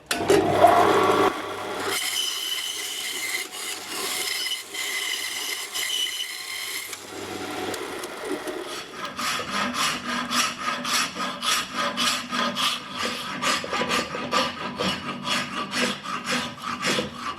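Close, steady hand sawing through a wooden hammer handle, starting as rough rubbing strokes and settling into a fast, regular back-and-forth rhythm.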